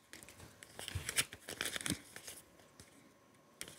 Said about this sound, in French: Est-ce que vous pouvez ouvrir l'enveloppe que je vous ai donnée?